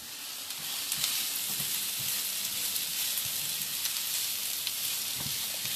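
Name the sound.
onions frying in a pan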